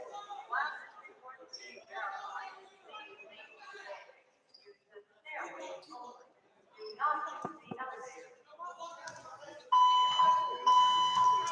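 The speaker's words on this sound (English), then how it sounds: "Fire alarm has went off here, so we have to vacate the building." A fire alarm sounds inside a gym during a boys' volleyball match, its steady electronic tone rising clearly near the end over a murmuring crowd, with chatter and laughter throughout.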